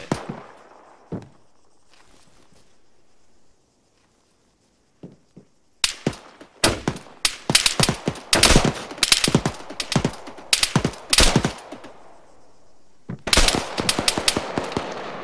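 Gunfire in a video game firefight around a big factory area: a few isolated shots, a short silence, then long rapid bursts of sharp, loud cracks in quick rhythm, pausing briefly before another dense volley.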